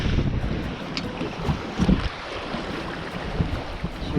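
Small sailing dinghy bashing through heavy swell off a point near Maitland Bay, with gusty wind buffeting the microphone, water sloshing and slapping against the hull in uneven bursts, moderately loud and close.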